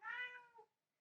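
A pet cat gives one drawn-out meow indoors near dinner time, clear and close, trailing off into a short second note before silence.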